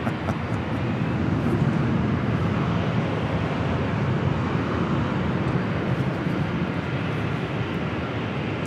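A JetBlue Airbus A321 jet arriving at LAX produces a steady, heavy broadband roar with a strong low rumble, sustained and fairly loud, with a wind-like rushing quality and no voices.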